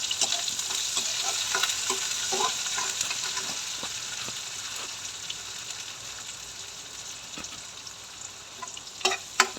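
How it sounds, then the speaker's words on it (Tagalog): Sliced onions sauté in hot oil in a pan at the start of cooking pancit canton, a steady bright sizzle throughout with occasional stirring clicks and scrapes toward the end, and no talking. "unahin muna natin yung sibuyas na igigisa."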